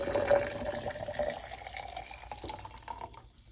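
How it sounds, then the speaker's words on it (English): Microwave-heated water is poured into a cup, a close, modest trickle and splash that fades toward the end, with no one talking. "this water I put in the microwave. And I'm going to pour it in the cup."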